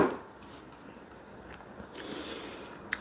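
A few crisp bites into a crunchy cake with undissolved sugar, close up and fairly quiet, with sharp crunches at the start and toward the end and soft chewing between.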